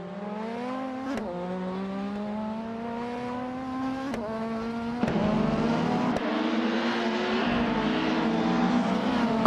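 Race car engines in an AI racing game whine and rise in pitch together, several cars accelerating close by with sharp shifts and a steadily louder, rougher roar toward the end.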